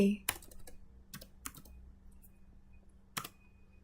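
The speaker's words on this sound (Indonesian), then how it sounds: "kita ketik apt install PHP" A command is typed on a computer keyboard while configuring an Ubuntu server: scattered close clicks and taps in a short, uneven run, with a brief burst at the start and a final firmer keystroke.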